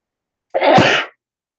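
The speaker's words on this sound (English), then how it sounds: "Oh, sorry, that was a sneeze." One close, abrupt sneeze bursts out alone in an otherwise quiet moment.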